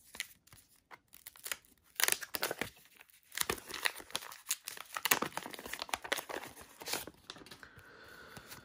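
A wax pack of baseball cards being torn open up close: quick, crisp crinkling and ripping of the wrapper in irregular bursts, followed by softer rustling of the cards being handled.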